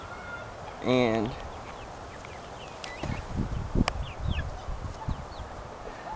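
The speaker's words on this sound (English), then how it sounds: "Here's some of my chickens." Chickens in a backyard coop, including Frizzle bantams and silver laced Wyandottes, give a sharp squawk followed by scattered soft clucks and rustling, while a person speaks briefly nearby.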